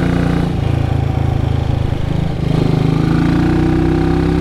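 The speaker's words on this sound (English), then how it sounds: "That engine sounds cracking." Classic 1950s motorcycle engine running steadily at close range, a loud continuous mid-pitched thrum with a pulsing exhaust beat that briefly dips around mid-clip before picking back up.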